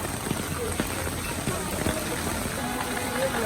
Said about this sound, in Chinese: 突然下起了大雨，这雨下得够大呀